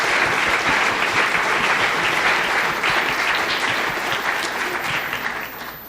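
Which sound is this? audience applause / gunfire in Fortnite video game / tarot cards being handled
audience applause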